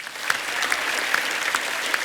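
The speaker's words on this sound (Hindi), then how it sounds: "एक बार जोरदार तालियां हो जाए" A television comedy show's studio audience gives a burst of loud, dense applause to welcome a guest, the clapping steady and unbroken with no talking over it.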